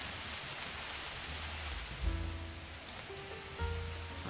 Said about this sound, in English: but it was raining when we were there